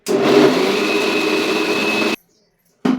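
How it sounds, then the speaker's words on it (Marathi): A kitchen mixer grinder grinds soaked wheat with a little water, whirring loud and steady for about two seconds, then cutting off into silence before a short restart at the end. "आणि आता सुरुवातीला पाणी न घालता एक दोन मिनिट वाटून घ्यायचं आहे"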